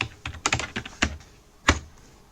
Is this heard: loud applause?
no